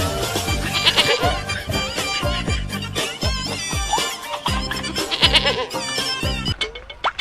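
Goats bleat repeatedly and loudly close by, with wavering calls recurring in a steady series through a farmyard scene, no voices present.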